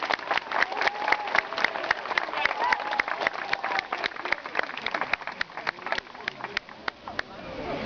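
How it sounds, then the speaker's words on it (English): Audience applause at a sea lion show, a dense, steady patter of many hands clapping throughout, fairly close and continuous with crowd murmur beneath. "please give him a well-deserved round of applause for coming out"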